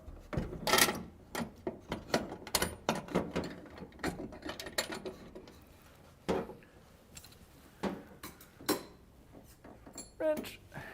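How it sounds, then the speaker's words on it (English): A ratchet fitted with a 9/16 socket clicks in quick, irregular bursts of close, crisp metallic ticks, pausing and restarting, with a few clinks of metal tools and brief light sounds near the end. "next we're going to take a 9/16 size wrench and a ratchet."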